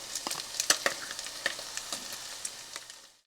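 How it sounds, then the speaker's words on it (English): Tomato paste being stirred and squashed into browned ground beef in a hot pan, giving a steady close sizzle broken by scraping spoon strokes and soft wet squelches, with no voices. "stir it around using the back of the spoon just to initially squash it down and mix it in"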